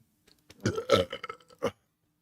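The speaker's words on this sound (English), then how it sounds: "I've got this burp that's like stuck right here." Belch from a podcast host with a stuck, painful burp, a drawn-out gurgling eructation in several close, fairly quiet pulses, heard alone without talk.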